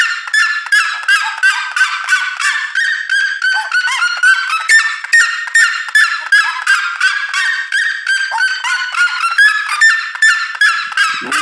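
Chickens, guinea fowl and seriemas calling together outdoors, a loud, dense series of rapid, repeated honking and cackling cries in quick rhythmic bursts that keep going throughout, with no voices.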